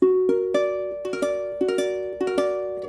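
An augmented piano chord for comparison, struck several times in quick succession with broken-chord onsets, each ringing briefly before the next, close and clear with no voices.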